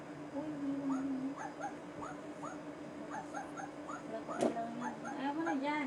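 A stuffed toy dog for sale gives a rapid string of high, yipping barks in steady repeated bursts, close and clear, while someone talks over it.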